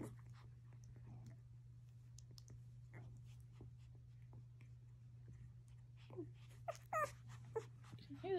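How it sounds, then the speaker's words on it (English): Faint, quick sniffing puffs from a tiny newborn Belgian Malinois x Dutch Shepherd puppy close by over a steady low hum, with a few high squeaky whimpers toward the end. "Hear this little puppy's nose going."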